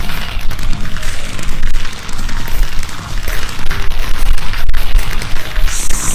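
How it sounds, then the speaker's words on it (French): Fireworks bursting at night in Minecraft, a dense, continuous rumble of booms and crackles, loud and busy throughout with no clear gaps. "C'est magnifique les feux d'artifice dans la nuit"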